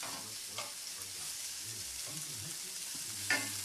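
Bite-sized pieces of bacon, half a pound, frying in a pan with a steady, quiet sizzle and a brief louder crackle near the end, alone with no talking.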